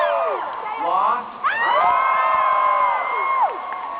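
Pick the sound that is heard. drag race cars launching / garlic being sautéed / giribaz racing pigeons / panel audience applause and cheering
panel audience applause and cheering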